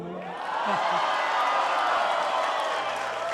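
A crowd cheers and applauds at a state event as President Yoon Suk Yeol, in a bow tie, sings a line of a song on stage; the loud, sustained roar swells and holds throughout.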